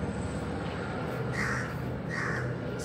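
Two harsh crow caws ring out about a second apart over a quiet outdoor hiss.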